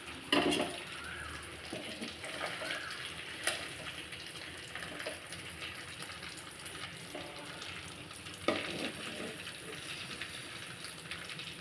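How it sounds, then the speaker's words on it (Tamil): Rock fish coated in a ground coconut and small onion masala fries in a pan, giving a steady close sizzle with occasional louder spits and crackles, without talk. "நல்லா வாசனையாக இருக்கும் மீன் வறுக்கிறது இங்கே பாருங்கள்"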